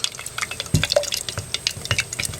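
Plaster of Paris is stirred into water to make homemade gesso, producing close, wet sloshing and dripping sounds with irregular clicks and splashes throughout.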